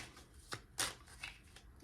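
A deck of tarot cards is shuffled by hand, with several soft papery riffling bursts at uneven intervals, close and quiet, and no speech.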